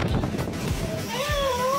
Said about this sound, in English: the cat appeared to cry for help